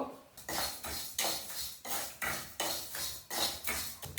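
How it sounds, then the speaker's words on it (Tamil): Rice dry-roasted in a pan over medium gas for karima podi, stirred with repeated metal scrapes and clinks of a spoon against the pan in a steady rhythm, close and moderately loud with no talking. "அரிசியை போட்டுக்கிறேன் நல்லா செவக்க வறுத்துக்கோங்கோ"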